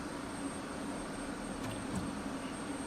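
F-16 or F-18 jet engine spooling up in DCS World as the throttle comes forward, a steady hollow turbine roar with a faint high whine running throughout at moderate, even loudness.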